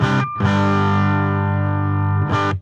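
A heavily distorted electric guitar runs through a Quilter Interblock 45 amp with its impulse response switched off, giving a buzzy, fizzy sustained chord that cuts out briefly and returns, loud and alone.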